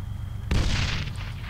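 A grenade explodes in the video game Arma 3: a single loud, booming blast lands about half a second in, then a rumbling tail fades slowly.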